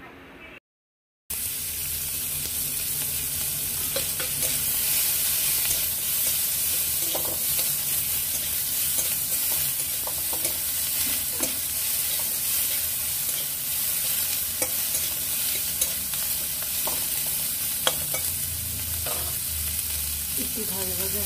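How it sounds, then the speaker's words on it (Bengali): Chopped onion and green chillies fry in oil with five-spice seeds for an egg curry, a constant close sizzle with scattered scraping taps of a spatula after a brief silent gap at the start. "ফোড়নটা একটু ভাজা হয়ে যাবার পর দিয়ে দেব একটা পেঁয়াজ কুচি আর কয়েকটা কাঁচা লঙ্কা"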